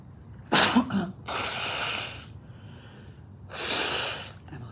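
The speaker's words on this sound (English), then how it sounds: "I'm gonna sneeze." A person sneezes on stage, with a sharp nasal burst followed by two longer, forceful blasts of breath, close and loud against quiet.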